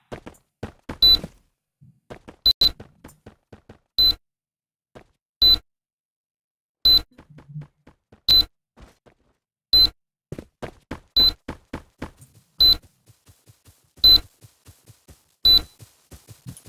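A planted bomb's timer beeps in the shooter game Forward Assault, sharp electronic chirps repeating at a steady interval of a second or so, loud and distinct against near silence with faint background clicks between them.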